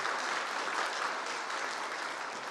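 A church congregation applauding at a children's award ceremony, dense steady clapping from many hands at moderate distance, sustained without a break.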